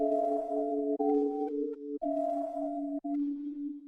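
A reversed synthesized tonal sample chopped into about four evenly spaced segments, each cut off abruptly, giving a steady pulsing rhythm.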